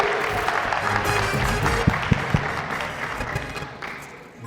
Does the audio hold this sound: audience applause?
yes